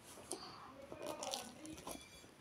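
Biting into a very crunchy food up close, with a few sharp crisp crunches spread across a couple of seconds and quiet room noise between them.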